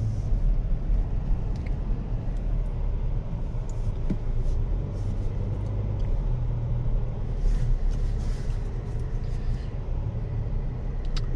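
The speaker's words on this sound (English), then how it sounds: "setting off in the Colorado Trail Boss, let's go ahead and put it in drive and we'll take off" A 2024 Chevy Colorado Trail Boss mid-size pickup with a turbocharged four-cylinder pulls away, a steady low engine drone and road rumble filling the cabin throughout, fairly even in level with no speech.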